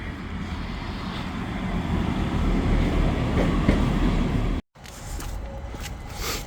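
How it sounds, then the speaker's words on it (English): A tram in Gothenburg rolls past close by on a dark morning, a steady loud rumble with rail rattle and clatter, briefly cutting out before the running noise resumes. "There's another tram there."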